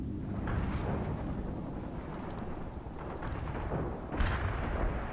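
A missile launch in the war game World in Conflict, a sustained rumbling roar with booming, wind-like noise that swells briefly near the end, loud and alone.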